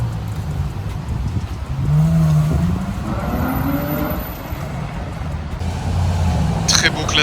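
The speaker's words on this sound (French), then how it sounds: "Ferrari FF." Ferrari FF driving past on a Paris street, its engine swelling and fading amid steady traffic noise, with people talking over it.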